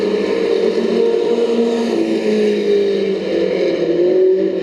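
Race cars in a heat race at Bakersfield Speedway, a dirt oval, make a continuous buzzing engine roar at steady loud level, the pitch rising and dipping slightly as the cars run through the laps.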